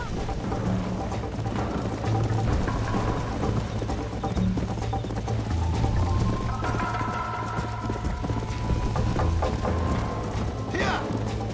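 Horse hooves pound in a steady galloping rhythm in the video game Red Dead Redemption, set under a constant low rumble and hum with occasional voices speaking over it.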